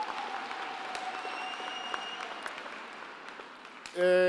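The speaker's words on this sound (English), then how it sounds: "Let's give another round of cheerful applause for Dr. Saurombe." Steady applause from a crowd at a graduation ceremony in Qwaqwa fills the room, broad and sustained, before a sudden tonal electronic sound cuts in at the very end.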